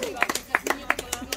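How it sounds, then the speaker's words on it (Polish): Applause for the organizer at an outdoor cycling competition ceremony, a crowd clapping in scattered, irregular bursts over a short stretch, with voices faintly mixed in. "Organizator, też brawa!"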